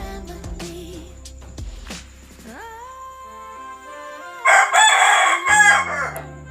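A six-month-old young hen being handled and stroked on the head gives off clucking and crowing-like calls, with a louder burst of agitated squawking toward the end, close by with no talk.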